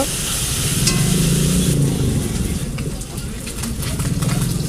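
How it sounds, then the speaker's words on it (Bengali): Live puti fish frying in a pan of oil, a loud, continuous close sizzle with a bubbling crackle that holds steady throughout. "এবার বাদ বাকি মাছগুলো ভেজে নেব।"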